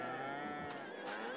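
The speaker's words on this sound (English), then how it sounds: "And we have 150 cows in this particular pen." Herd of cattle in a pen in Farming Simulator 22, with several overlapping moos and lowing calls in a steady, moderately loud ambient chorus and no talking.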